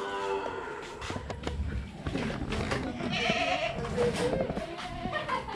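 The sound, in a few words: goat bleating on a farm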